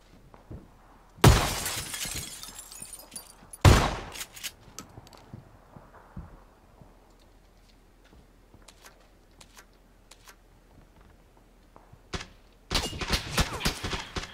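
Gunfire in a video game: sharp, loud cracks with a shattering edge burst out in separate clusters, one early, one a few seconds later and a dense volley near the end, with quiet, faint clicks in between.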